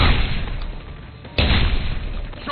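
Two sharp gunshots ring out in the Deus Ex Human Revolution video game, each a sudden loud blast with a decaying tail, about a second and a half apart, with no voices.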